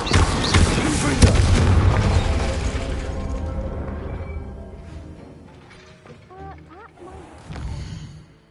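A Confringo blasting spell explodes in Hogwarts Legacy, a loud booming burst with crackling debris at the start that fades into quieter game sounds and a swell near the end.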